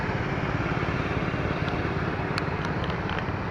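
Several hit-and-miss gas engines running together at an outdoor gas engine show, a steady low chugging rumble with a few faint higher clinks over it.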